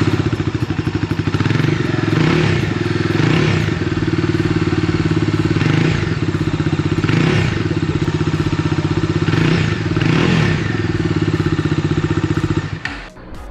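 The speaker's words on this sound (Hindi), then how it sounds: "आइए जान लेते हैं एग्जॉस्ट साउंड डोमिनार 250 का कैसा है" Idling Bajaj Dominar 250 BS6 motorcycle from 2020, its steady exhaust thrumming loud and close with a few throttle blips rising and falling, no voices, cutting off at the end.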